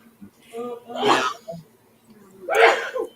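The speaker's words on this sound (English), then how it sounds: "That was a lot of sneezing." Two loud sneezes from a person nearby, each with a breathy intake before it, separated by a short pause and a small vocal sound.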